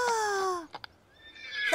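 A person imitates a horse: a short, high whinny descends in pitch, followed by two brief clicks and a rising whinny-like call at the end.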